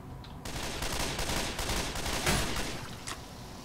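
Rapid gunfire from a gun in the video game Left 4 Dead 2, a continuous rattling fusillade that fills the moment with dense, loud bursts and one sharper peak near the middle.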